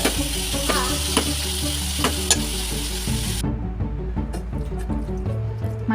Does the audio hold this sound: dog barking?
no